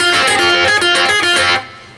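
A bright, distorted electric guitar riff of quick repeated notes played close and alone, from a guitar lesson, ending with a short ringing decay.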